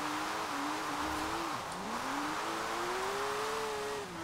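A Porsche 914 on race tires in Forza Horizon 4 drones steadily through a single gear, its engine note dipping briefly mid-way then climbing again in a smooth, moderately loud rev with no voices.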